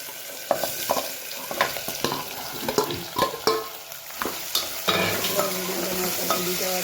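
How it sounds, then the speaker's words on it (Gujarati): Chopped onion drops into hot oil in a home kitchen pan and fries with a steady sizzle, punctuated by repeated scraping stirs of a spoon, close and fairly loud, with no talk. "ચલો પહેલાં આપણે ડુંગળીને નાખી દઈએ."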